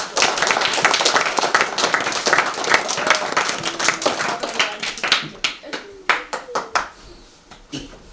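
Audience at a school assembly clapping steadily, a thick wash of many hands that tapers into sparse, separate claps toward the end, with faint talk underneath.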